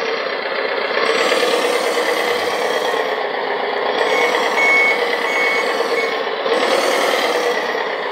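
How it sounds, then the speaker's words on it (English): The sound system of an RC articulated loader truck sounds a steady, repeating reverse warning beep over a continuous synthesized engine rumble, loud and close throughout. "So you hear, when I go forward, it's having the backward warning sound"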